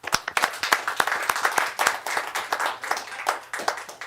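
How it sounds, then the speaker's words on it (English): Hands clap quickly and repeatedly at a county commissioners' meeting, a brisk rhythmic clapping from a few people, close and fairly loud, with no talking. "So I'm going to clap for him."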